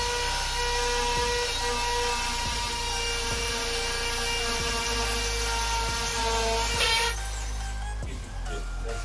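A power drill driving a Tapcon concrete screw into a brick wall, a steady loud whine with repeated low thuds running almost the whole time before cutting off near the end.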